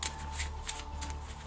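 A deck of board game cards for Infection: Humanity's Last Gasp being shuffled, several quick riffling bursts in a regular rhythm, close and soft over a quiet background hum.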